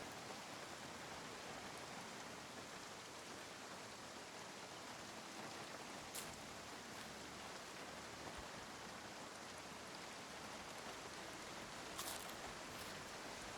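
Steady rain falling in the Project Zomboid video game, a soft, even wash of patter that stays constant throughout with no other sounds or voices.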